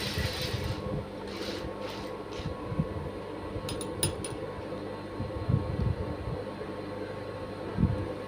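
A sewing machine stitches blouse lining fabric, with a continuous low mechanical whir and rattle and a few brief brighter clicks.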